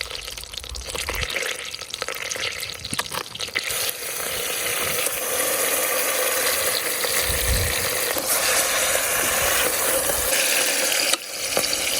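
Steaks fry in butter and olive oil in a pan, a steady loud sizzle that swells and holds after the meat goes in, with a few clatters and scrapes of handling.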